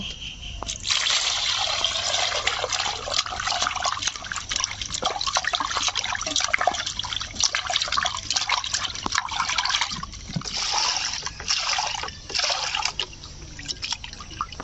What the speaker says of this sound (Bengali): রুই মাছটা কেটে নেওয়া হয়ে গেছে। ভালো করে ধুয়ে নেব।